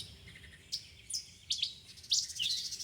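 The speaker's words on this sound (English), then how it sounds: "I'm listening to the birds around me." Sparrows chirp in short, bright bursts in springtime, several tweets scattered over a quiet background, growing a bit busier toward the end.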